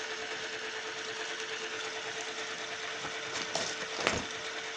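A Hall-effect sensor motor spins at top speed, making a steady, fairly loud mechanical whir with a constant tone, interrupted by a couple of brief clicks near the end.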